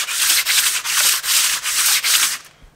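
An engine cylinder head is sanded flat on a home kitchen workbench during a rebuild, giving six loud rhythmic rasping strokes back and forth that stop near the end, with no talking.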